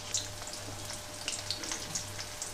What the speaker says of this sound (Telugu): ఇప్పుడు కొంచెం కొంచెంగా బెండకాయ ముక్కలు ఇందులోకి వేస్తున్నాను